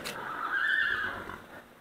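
A single drawn-out whinny from a large mare being fed hay, close and clear, rising then fading after a brief knock at the start.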